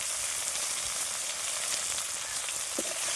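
Jackfruit seeds and potato frying together in a pan, giving a continuous soft, rain-like sizzle with a faint clink of a utensil near the end.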